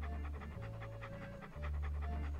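Steady, rapid dog panting from Walt in the PC adventure game Monkey Island 2, regular breathy pulses heard up close above a droning musical backdrop that shifts pitch midway.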